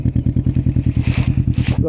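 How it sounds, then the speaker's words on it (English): Can-Am Ryker 600 with a baffled Two Brothers exhaust idles loud and close, a steady throbbing pulse that roughens slightly partway through. "You'll hear that, it's quite loud. And that does have the baffle in it, and that's the Two Brothers exhaust."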